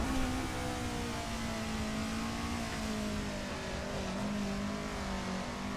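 A Toyota 86 engine hums steadily from onboard as the car drives toward and through a corner, the pitch sliding gradually lower as it slows. The sound is continuous and fairly faint, with no talk over it.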